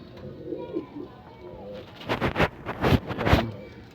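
Racing pigeons just back from a lap race out of Matnog coo at close range, with a few sharp flapping bursts near the end and a voice murmuring low in the background.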